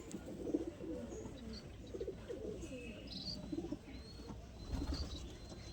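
Pigeons in moult coo softly in low, rolling calls scattered through the stretch, joined by faint chirps and a cricket-like background, all quiet and somewhat distant with no speech.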